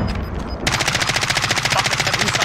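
Rapid automatic gunfire in the Call of Duty video game breaks out after a short quieter lead-in, then keeps up a fast, even rattle of loud, close shots.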